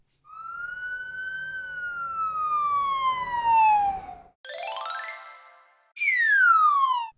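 Cartoon police car siren in a toddler show, a long wailing tone that slowly falls in pitch, then after a break a short rising warble and another falling wail, loud and alone with no talk.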